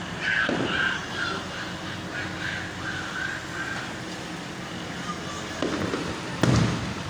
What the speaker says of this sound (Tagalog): Oh, ganda ng fireworks.